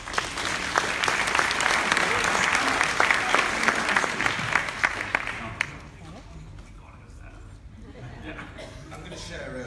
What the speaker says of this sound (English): Can we give Abdul a round of applause?